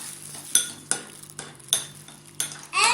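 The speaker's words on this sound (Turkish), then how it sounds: "Şimdi bunları biraz karıştıralım. Hadi karıştırın." Slime ingredients are stirred in a bowl, a utensil knocking and scraping against its sides in about six sharp clinks, with a wetter scrape at the end.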